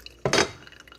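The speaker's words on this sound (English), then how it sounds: "I'm brewing my coffee, y'all." Coffee being brewed by hand without a coffee maker gives a single short liquid splash or drip against a glass vessel, close and fairly quiet.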